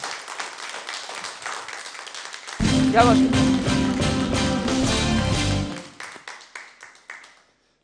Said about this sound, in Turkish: alkışlarla huzurlarınıza alıyorum lütfen